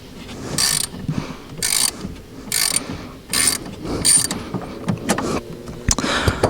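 A hand ratchet loosens the 10 mm battery terminal nut on a BMW F80 M3, giving repeated close bursts of quick clicking in an uneven rhythm, with clinks of metal between strokes.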